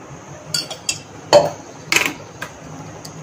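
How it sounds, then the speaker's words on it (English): A spoon knocks and clinks against a pan while oil goes in for a chicken omelette, a handful of light separate metallic taps close by against a faint kitchen hiss. "Now add 1 spoon of oil to the same pan"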